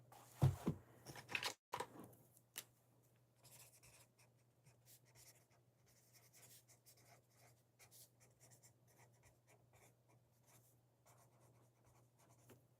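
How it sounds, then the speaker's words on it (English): Pen scratching on paper while jotting notes during a lariat necklace beading tutorial, a steady faint run of small strokes and scribbles lasting several seconds after a brief louder rustle at the start, with no talking. "Let me write it down though, because I will forget."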